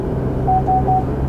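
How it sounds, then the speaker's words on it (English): A GMC Canyon Denali pickup sounds its lane departure warning: three short, evenly spaced electronic beeps over a steady road and cabin rumble. "you're gonna get that yellow light in the dash along with a very audible beep that basically tells you, hey dude, you're driving here, get back in your lane"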